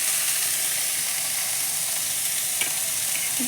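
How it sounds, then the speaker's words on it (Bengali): Previously fried potatoes go into hot oil in a pan with a loud, close, continuous sizzle and hiss, with a faint stirring clink near the end. "ভেজে রাখা আলু ছেড়ে দিলাম।"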